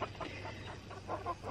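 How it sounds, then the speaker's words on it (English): Hens in a backyard flock cluck softly in short irregular bursts, faint and fairly distant, with no talk over them. "Ruby, don't chase my chickens"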